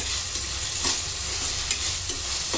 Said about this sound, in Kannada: ಚೆನ್ನಾಗಿ ಎಣ್ಣೆಯಾಗ ಫ್ರೈ ಆಗಬೇಕು ಫ್ರೆಂಡ್ಸ್.